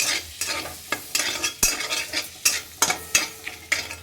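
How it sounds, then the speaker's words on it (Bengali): Whole spices (cardamom, cloves, cinnamon) fry in hot oil with a steady sizzle while a utensil scrapes and stirs in sharp, irregular strokes against the pan. "মশলাটা একটু কয়েক সেকেন্ড ভাজা ভাজা হবে"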